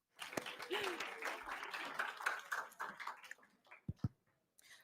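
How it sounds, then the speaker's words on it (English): A small audience at a game jam livestream gives brief applause for a volunteer, a scattered burst of claps and murmuring voices that thins out and stops, with a few isolated thumps after. "let's get a big round of applause for Advait"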